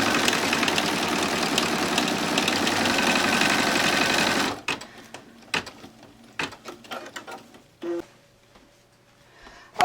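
An embroidery machine stitches a paper piecing block in the hoop, a loud steady rapid whir for about four and a half seconds, then stops, leaving scattered clicks and handling noises.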